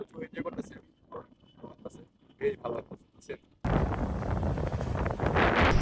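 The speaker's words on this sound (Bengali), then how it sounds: "ঝড়ো হাওয়া এত পরিমাণ বৃষ্টি হইতেছে বাইরে" Stormy wind and heavy rain outdoors during a storm, a loud dense roar of rain and wind buffeting the microphone arriving suddenly after a stretch of talking, then continuing steadily.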